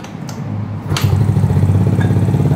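Motorcycle with a standard carburetor being kick-started: a few clattering kicks, then the engine catches and settles into a steady, loud, close idle with a rhythmic low putter.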